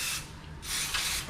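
Sherwin-Williams Pro Block oil-based primer is sprayed from a can over a drywall repair patch. Close hissing bursts come in three passes, the first and second long and the last short, with brief pauses between and no voices.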